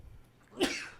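A single sharp sneeze bursts out after a short quiet inhale, close and loud, then trails off.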